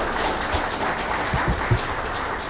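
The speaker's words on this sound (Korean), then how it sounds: "박수로 모시겠습니다" Audience applause welcoming a guest speaker at a Korean security seminar, a steady wash of hand claps with a few louder low thumps near the middle.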